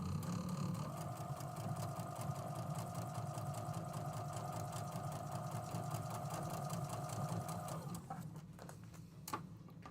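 A sewing machine stitches a tulip table runner, its steady, close motor whir running without a break for about eight seconds before stopping.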